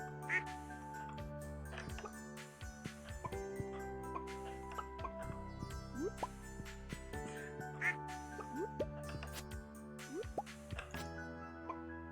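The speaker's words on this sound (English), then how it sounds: "Hez is one of our ducks." Cartoonish duck quacks from the farming game Stardew Valley pop up intermittently over soft looping game music with dripping, watery effects.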